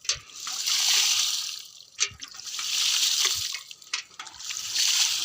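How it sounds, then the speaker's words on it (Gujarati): Buckets of water are poured onto a lemon plant on a village farm in three successive loud, splashing gushes, each beginning with a sharp slosh as the bucket tips, with no talking. "તો ચાલો હવે તેમને પણ આપણે બે ડોલું પાણી નાખી દઈએ"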